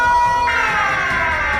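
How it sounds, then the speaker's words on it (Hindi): Siren Head, a horror cartoon creature, blares its siren loudly and continuously, a steady high wailing tone with dense harmonics that shifts pitch slightly partway through. "वो अपना सायरन बजाने लगता है"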